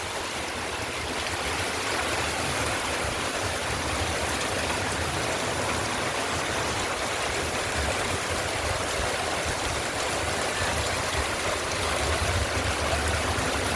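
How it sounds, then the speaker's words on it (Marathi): Steady, dense rushing of heavy winter rain in Jakhinwadi, Karad, a constant broadband wash with no pauses or voices throughout. "हिवाळ्याच्या दिवसांमध्ये जबरदस्त पाऊस जखेवाडी परिसरामध्ये"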